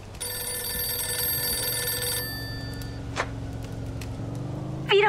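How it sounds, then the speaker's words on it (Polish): A telephone rings in the 1940s-style crime game Mafia II, a steady electronic ring over a low engine hum, then stopping, followed by a short click. "O, telefon."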